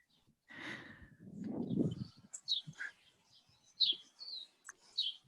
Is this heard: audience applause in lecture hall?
no